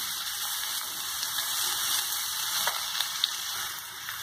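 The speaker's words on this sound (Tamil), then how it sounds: "இது எல்லாம் நல்லா பொரிஞ்சதும் நம்மளுடைய வெங்காயம், அப்புறம் green chilli, red chilli add பண்ணிக்கலாம்" Onion with green and red chillies frying in hot oil for lemon rice, a steady close sizzle and crackle with a few small pops, no voices.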